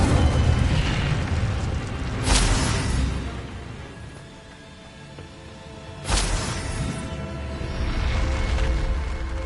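The Incendio fire spell cast in the video game Hogwarts Legacy, two loud booming bursts of flame a few seconds apart, each with an explosive rush that swells and then fades.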